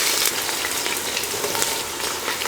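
Whole spices and onion frying in hot oil for country chicken biryani, giving a loud, dense, continuous sizzle close up with no voices.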